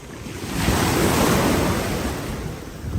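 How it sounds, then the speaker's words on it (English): Strong ocean waves break on a beach on Hydra island in the Aegean Sea. The surf builds into a loud, close roar and then eases, with wind buffeting the microphone. "these waves are super strong"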